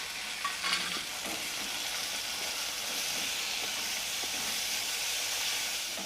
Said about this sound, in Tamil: இப்போ நம்ம இதை கிண்டி விட்டுக்கிட்டே இருப்போம்.